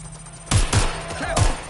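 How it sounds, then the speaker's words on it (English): Three sharp gunshots in the Watch Dogs Legion video game crack out close and loud over a low background hum, two in quick succession and a third after a short pause. "Shots fired."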